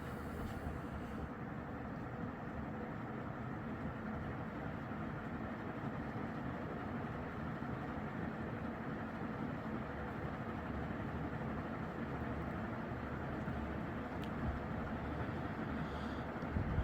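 An S.M.C. K56 industrial 56-inch ceiling fan runs at full speed, giving off a steady, low, even whooshing hum that stays constant and fairly quiet throughout.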